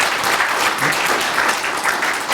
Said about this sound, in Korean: 박수 한번 크게 좀 쳐주십시오.